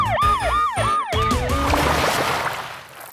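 A cartoon police car siren from a children's vehicle puzzle wails in a loud, rising and falling warble, repeating several cycles on its own before fading into a noisy wash.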